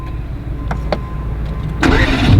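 Mercedes AMG GT R Pro engine cranks with a few sharp clicks and then fires, its loud, deep starting roar swelling up close in the final half second.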